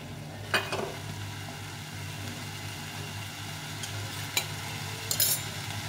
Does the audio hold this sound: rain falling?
no